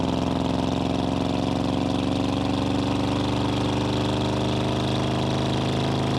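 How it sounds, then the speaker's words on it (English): A 1987 Chevrolet K10 Silverado with a 350 V8 and automatic transmission drives along, its engine giving a steady, loud, continuous drone with road noise throughout. "I can get into the RPMs just a little bit more before it shifts"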